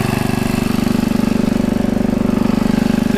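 A 1950s American-made David Bradley engine running steadily, a loud close chugging idle with a fast, even rhythmic pulse and a low mechanical drone, no talking.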